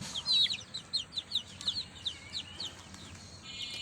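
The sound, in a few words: chickens clucking in a shed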